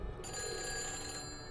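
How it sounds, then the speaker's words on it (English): A phone ringing in the video game Nancy Drew: Phantom of Venice, a steady electronic ring tone sounding close and continuous for the whole moment. "Oh, my phone's ringing."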